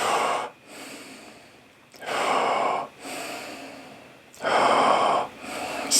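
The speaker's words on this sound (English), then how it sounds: "breathing in through the mouth, out through the nose, then we'll do a breath hold" Power breathing exercise: three forceful, loud breath cycles at close range, each a sharp rush of air separated by brief pauses, breathing in through the mouth and out through the nose.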